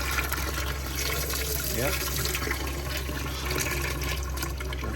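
Pressurized hot water runs steadily from a tap inside a camper fitted with a flexible water bladder, a continuous close hiss with a person speaking briefly over it.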